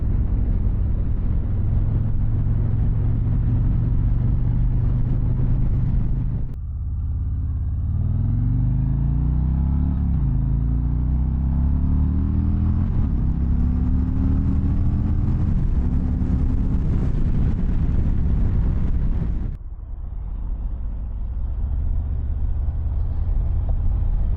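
A 2024 Harley-Davidson Street Glide motorcycle engine rumbles steadily while riding, its pitch climbing through acceleration and dropping briefly between gears, with wind noise over the loud, close drone.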